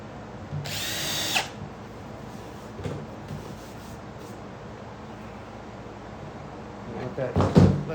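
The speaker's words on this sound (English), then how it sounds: "I'm gonna drill all the holes in the top" A power drill bores holes in the top of a box for a homemade vacuum forming machine, a loud whirring burst lasting about a second, then quieter shop noises before a second rough drilling burst near the end.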